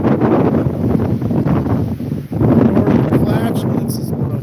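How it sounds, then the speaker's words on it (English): Strong wind in open Nevada country, blowing off the mountains and roaring steadily across the microphone as loud, constant buffeting with no letup. "It's windy as hell. That wind's coming from the mountains."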